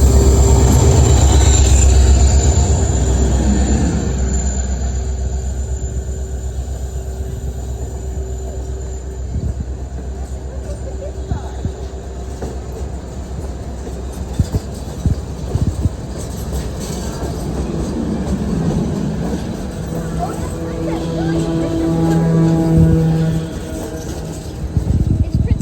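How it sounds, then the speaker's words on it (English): Alaska Railroad passenger train heading north past a high trestle bridge over a small stream, a steady loud rumble with rail clatter building and swelling toward the end, no talking. "Here comes another train headed north."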